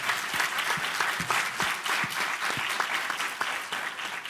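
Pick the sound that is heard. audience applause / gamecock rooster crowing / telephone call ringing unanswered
audience applause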